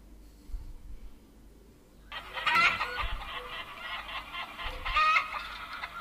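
Chickens clucking in a song, beginning midway as a dense burst of layered clucks and squawks that rises and falls against quiet music underneath.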